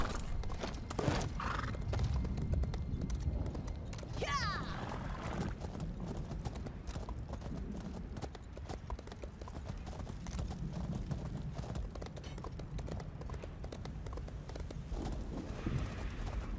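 Horse hooves clip-clop steadily beneath a rider in The Elder Scrolls Online, with a neigh partway through, all over a continuous game soundscape of ambient sound.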